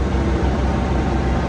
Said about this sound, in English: That noise is the engine working.